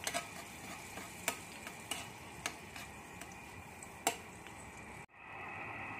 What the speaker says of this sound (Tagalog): Ito na, niluluto na natin yung ating pansahog.